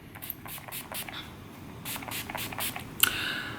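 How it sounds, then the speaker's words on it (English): Urban Decay makeup setting spray misted onto a face in a series of short, close hissing bursts with a sharper final spritz. "It is from Urban Decay, and it is the makeup setting spray."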